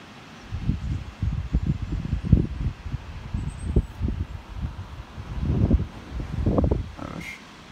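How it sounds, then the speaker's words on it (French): Strong gusts of wind tossing the trees, a low rumbling roar that surges and fades in uneven bursts with leafy rustle, buffeting the microphone and swelling loudest toward the end. "quand même du bon vent. En rafale."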